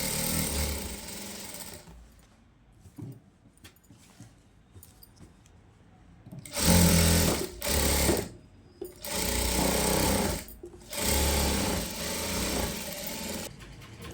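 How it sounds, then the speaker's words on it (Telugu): A sewing machine stitching a seam on a young girl's plazo trousers, fast loud whirring bursts in several runs separated by brief pauses and quieter handling sounds. "ఇప్పుడు ఇటు సైడ్ కూడా ఒక స్టిచ్ అనేది చివరికి వేసేసుకుంటే సరిపోతుంది"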